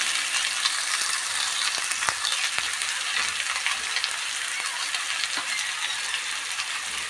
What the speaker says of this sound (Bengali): দিয়ে আবারও কিছুক্ষণ ভেজে নেব।